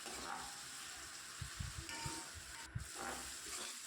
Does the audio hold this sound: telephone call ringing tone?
no